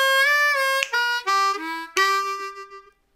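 Blues licks on a C harmonica, several sustained reedy notes with bends and quick triplet figures, played solo and fairly close, the last note fading out.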